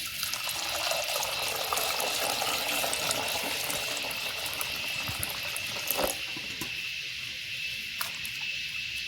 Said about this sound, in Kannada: ಮುಳುಗುವಷ್ಟು ನೀರು ಹಾಕಿದರೆ ಸಾಕಾಗುತ್ತೆ.